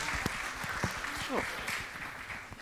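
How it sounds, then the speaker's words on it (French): Audience applause at an international toxicology congress: a dense, continuous wash of clapping from a crowd in a hall, with voices talking over it throughout. "Applaudissez encore une fois nos 2 médecins."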